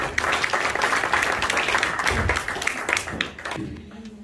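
Sustained applause from an audience at a book launch, dense steady clapping that thins out toward the end.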